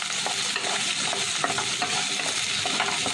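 Roughly chopped onion sizzling in a hot pan, a dense continuous frying crackle close by with light stirring, no voices.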